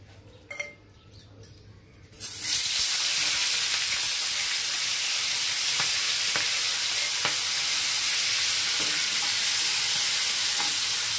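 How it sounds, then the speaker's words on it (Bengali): Marinated fish drops into hot mustard oil and bursts into a loud, steady sizzle that fills the pan after a few quiet seconds of clinking, with occasional spatters and no talking. "মাছগুলো হালকা ব্রাউন করে ভেজে নেব।"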